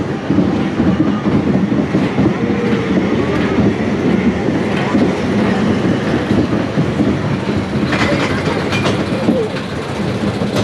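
A roller coaster train rolls along its rails at Energylandia with a continuous rumbling clatter and rhythmic clicking, loud and close throughout, with faint rider voices underneath.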